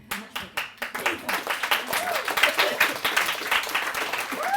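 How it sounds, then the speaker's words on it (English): An audience claps for a performer at a storytelling event, starting with a few separate claps that quickly build into dense, steady applause, moderately close. "Final round of applause for Lizzy"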